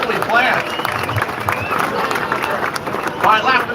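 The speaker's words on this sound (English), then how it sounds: "Round of applause again." A crowd applauds at a Ford Mustang S650 reveal event at the Flat Rock Assembly Plant, giving dense, steady clapping with cheering and voices mixed throughout.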